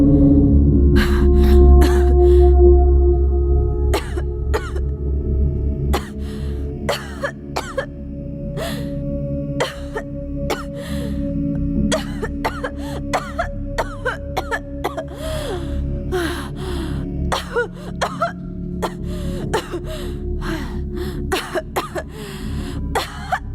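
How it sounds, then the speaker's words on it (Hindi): A woman coughs repeatedly in sharp, irregular bursts with throat clearing between, close and loud over a low steady background hum across the whole stretch. "खांसी को थोड़ा कंट्रोल करो ना प्लीज"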